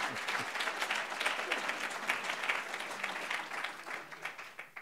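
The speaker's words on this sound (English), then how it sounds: "I think a round of applause for that would be okay." Audience applause at a distinguished speaker event at Tisch College: dense, steady clapping from a seated crowd for several seconds, tapering slightly toward the end, with faint murmurs underneath.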